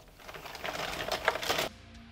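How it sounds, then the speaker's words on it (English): An Addi knitting machine cranked by hand for ribbing rows, giving a quick, close clatter of plastic clicks and rattles that builds for a second or two, then stops abruptly. "we're gonna go ahead and crank out 10 rows for the ribbing"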